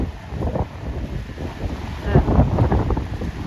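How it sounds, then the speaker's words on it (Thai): Strong wind on a beach where people are kitesurfing and surfing roars loudly and without a break across the microphone, with a low, gusty rumble that swells near the end. "ลมมันแรงอ่ะแรงมากเลย"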